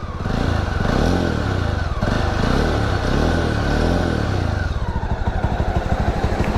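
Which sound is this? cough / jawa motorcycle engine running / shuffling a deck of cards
jawa motorcycle engine running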